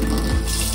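Water runs steadily from a sink faucet in an apartment washroom, a continuous, close, even gush with no pauses.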